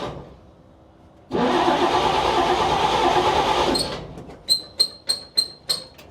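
A 1953 Chevrolet dump truck, left sitting on a ranch for fifty years, cranks and fires up loudly for about two and a half seconds, then cuts out and gives a run of sharp, rhythmic coughs and pops.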